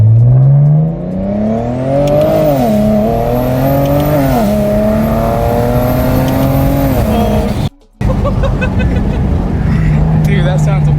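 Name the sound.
car accelerating from standstill in video game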